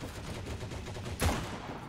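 A single sharp gunshot rings out in the WWII shooter Heroes & Generals, played as a sniper, cracking loudly once partway through over a steady wash of in-game ambience.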